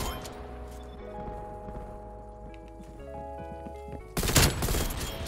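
Rapid automatic gunfire bursts out loudly near the end, after a stretch of tonal game music and ambience, in Black Ops Cold War multiplayer with an M16 loadout.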